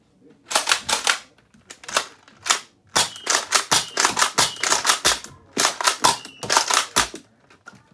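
A Nerf Mega Cyber Shock blaster fires foam darts in sharp, close snapping pops, grouped into quick bursts of several shots separated by short pauses.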